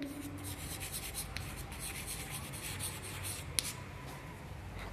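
Marker or chalk writes on a board in a lesson about the excretory system, with a continuous run of close scratchy strokes, quick short scribbles and one sharp tap near the end.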